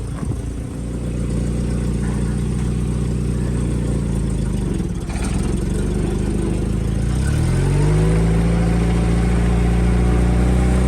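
Vehicle powered by a 1.5 litre Toyota engine, of the kind found in early Corollas, driving while towing, a steady close engine drone that rises in pitch as it pulls away and accelerates.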